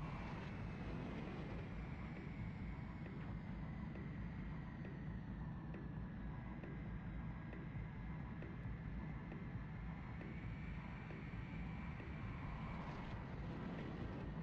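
A jet aircraft engine in the Ace Combat 3: Electrosphere video game gives a steady, loud, unbroken roaring drone with a faint whine layered on top. It holds evenly from start to finish, with no voices.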